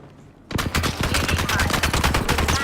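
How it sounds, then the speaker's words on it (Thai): Rapid automatic gunfire in Apex Legends breaks out suddenly after a quiet moment, a dense, loud stream of close shots with a steady rhythm continuing to the end. "มีคนยิงค่ะ มันยิงขึ้นหลังคาได้"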